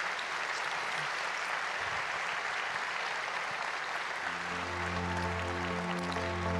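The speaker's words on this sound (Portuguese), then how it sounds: "Eu queria pedir uma salva de palmas para o IFL pelo que tem feito." An audience at a liberty and democracy forum award panel claps in a sustained burst of dense applause, and a low steady tone rises under the clapping partway through.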